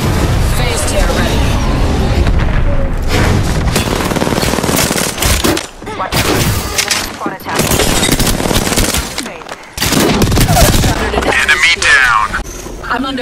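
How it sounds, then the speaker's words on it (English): Rapid automatic gunfire in Apex Legends, loud and close, in dense bursts broken by short pauses, with a voice speaking over the shooting. "I'm under fire"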